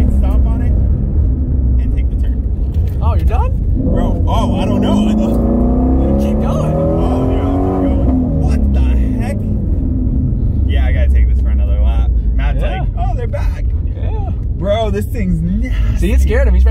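A Ford GT350 Mustang is pushed hard through a turn, its engine roaring loudly and climbing in pitch inside the cabin, with excited voices talking over the engine noise throughout.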